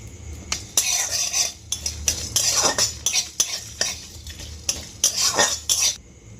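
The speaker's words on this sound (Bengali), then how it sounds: "আমি শুকনো কড়াই একটু নেড়ে নেব" Whole cumin, coriander seeds, cinnamon and cardamom scraped and tossed in a hot dry metal wok, a series of rattling, scratchy strokes with brief pauses between them.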